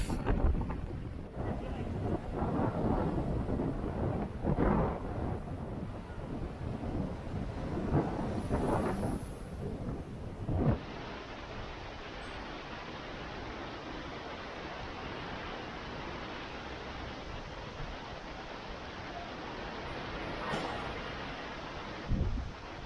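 Strong, steady hurricane wind at about 60 km/h roars and buffets the microphone throughout, with gusty low rumbling in the first half and a constant rushing hiss afterward.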